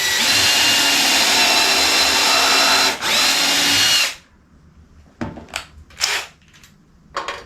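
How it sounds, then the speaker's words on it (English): A power drill runs steadily and loudly for about four seconds, pre-drilling holes in wood for an Adirondack chair, with a brief dip midway, followed by several short bursts after it stops. "Now we will pre-drill so we don't blow out our wood."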